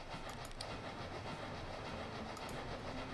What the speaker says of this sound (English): Where are my 2 trains on here?